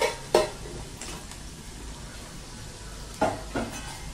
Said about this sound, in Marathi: लसूण मस्तपैकी परतला गेलाय, छान त्याच्यामध्ये खमंग झालाय